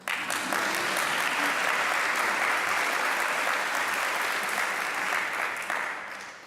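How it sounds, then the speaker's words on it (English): Steady audience applause at a university campus update event, broadband and sustained for several seconds before tapering off slightly at the end, with no talking over it. "You can clap."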